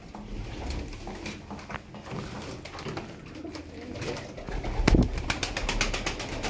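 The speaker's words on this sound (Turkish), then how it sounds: "Kanat sesine bakın yavrunun." A young pigeon flaps its wings in flight, with rapid rustling wingbeats that grow louder and clatter near the end, while other pigeons coo in the background.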